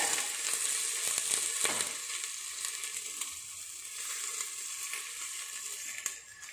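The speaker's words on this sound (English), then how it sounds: "I'm going to fry just for 2 to 3 minutes" Beans and carrot fry in oil in a pan, a fairly quiet, even sizzle with a few stirring scrapes early on and a brief knock near the end.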